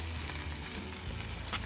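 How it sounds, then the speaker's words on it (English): Andouille sausage and chicken sizzling on a GrOven grill, a dense, steady hiss of fat crackling over a low humming rumble, close and continuous for a brief moment. "Listen to that sizzle. Look at this sizzle down here."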